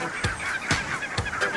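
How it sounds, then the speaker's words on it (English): A barnacle goose gives four loud, nasal honks spaced about half a second apart, clear and close over quiet outdoor background. "Barnacle goose is probably, in my opinion, the most beautiful goose"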